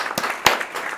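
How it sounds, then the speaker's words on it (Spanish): Applause for a Steve Jobs impersonation on a comedy podcast, heard as a short burst of clapping with two sharp louder claps standing out, fairly close and brief, no talk over it. "Un aplauso, por favor."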